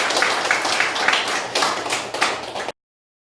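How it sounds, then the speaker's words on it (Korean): A Korean church congregation at an early-morning deacons' prayer meeting claps together in thanks, a dense, fairly loud patter with slight surges that stops abruptly near the end. "하나님께 감사의 박수"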